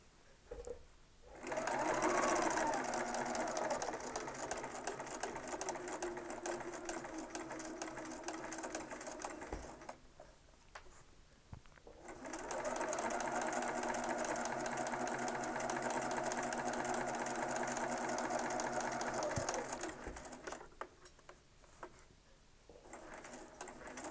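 Sewing machine stitching a quilt seam for a square-in-a-square block, running in two long steady bursts of fast, even mechanical whirring, close and fairly loud, with a short pause between runs.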